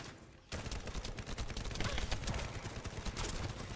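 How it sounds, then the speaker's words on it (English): An SMG in a video game fires in rapid sustained bursts that start abruptly after a half-second lull, loud and close, the rattling shots running on for about three seconds. "God, this SMG is firing."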